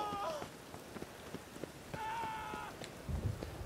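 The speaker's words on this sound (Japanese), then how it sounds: "こんな雨が降ってる日に。" Rain falls in the video game The Witcher 3: Wild Hunt, a steady close patter under short tonal game sounds and scattered light clicks.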